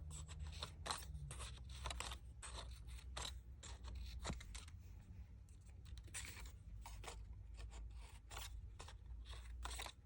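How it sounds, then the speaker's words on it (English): Scissors snipping between the petals of a small handmade flower: quiet, close, repeated crisp cuts in an irregular rhythm over a low background hum, with no voice. "We're going to cut in between the petals."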